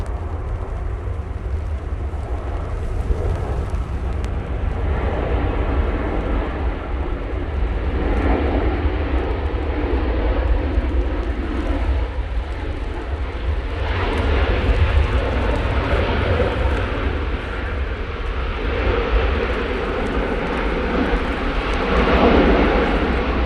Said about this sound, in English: Let's see those inboard reversers though